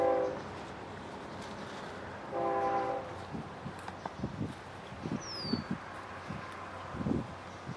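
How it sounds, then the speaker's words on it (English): A CP autorack and intermodal freight train passes beside the railroad in Redcliff, Alberta, its horn sounding briefly at a distance over faint rolling rumble, with scattered clicks and bird calls. "We're recording a train right now. It's coming on real fast right now,"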